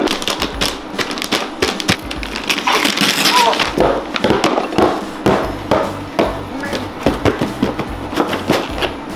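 Wrapped Christmas presents are smashed with rapid, repeated hard blows, uneven thuds and whacks close by, while people talk over the impacts.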